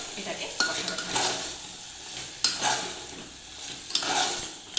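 Chicken curry being stirred and sautéed in a pan over a medium flame, a soft sizzle punctuated by several sharp spatula strikes and scrapes against the metal pan at irregular intervals.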